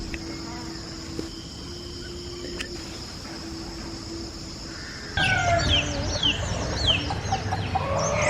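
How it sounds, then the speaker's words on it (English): Little chicks in a village in Nepal: chirping that starts quietly under a steady background hum and a faint tone, then jumps to a loud, dense chorus of overlapping high peeps partway through. "It's like the sound of little chicks everywhere."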